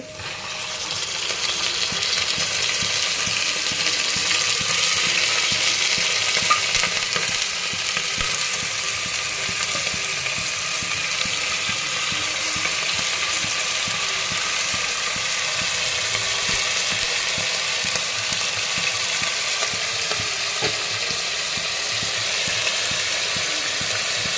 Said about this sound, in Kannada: ಇವಾಗ ಮಟನ್ ಹಾಕ್ಕೊತಾ ಇದ್ದೀನಿ.